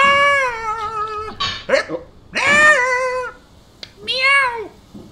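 A person vocally imitates a cat, giving several drawn-out, pitched meows with rising and falling contours and short pauses between them, loud and close with no other sounds.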